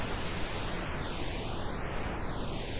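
Broadband hiss run through a SuperCollider band-reject notch filter, the carved-out gap gliding smoothly up and down in pitch like a slow whoosh, steady and continuous throughout.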